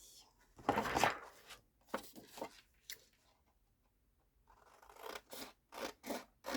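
Scissors snip through card paper in short bursts, a dense cluster of cuts early on and then a steady run of separate snips near the end, close and clear with no talking.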